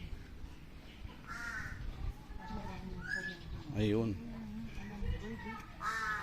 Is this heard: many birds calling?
yes